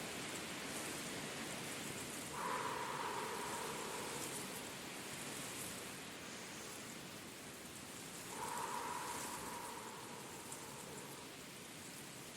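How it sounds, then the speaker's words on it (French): Steady rain falls continuously as a broad, even hiss, with two brief swells in intensity along the way, alone and without any voices. "Laissez l'élément air être en accord et en harmonie parfaite avec la pluie que vous entendez."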